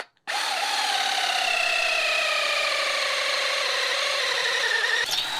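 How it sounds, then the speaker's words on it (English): A power drill runs steadily for about five seconds, a continuous high whine drilling out a hole during a steering box swap on an early Ford chassis, close and loud, then stops abruptly. "let's use this one and see if we can drill that one out real quick."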